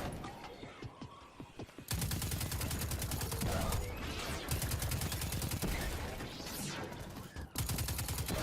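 Turret gunfire in the video game Destiny: after a brief quieter lead-in, a rapid, sustained stream of loud automatic shots hammers on with a few short breaks, and no one speaks.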